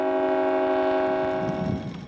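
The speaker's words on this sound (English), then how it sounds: "What goes choo-choo?" A loud train horn blasts a sustained chord, then cuts off as rumbling rail noise takes over, at the opening of the Redcliffe Peninsula Line.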